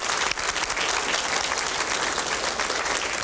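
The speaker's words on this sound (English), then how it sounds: "I'd like to give him applause again." Audience applauding a speaker at a lecture on social innovation, a dense sustained wash of clapping from a full room, loud and even throughout with no speech.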